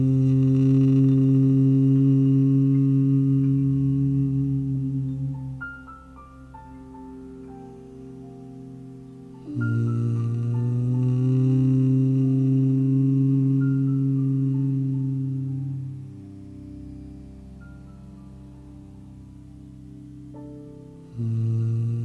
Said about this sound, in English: let's deepen the relaxation with humming sound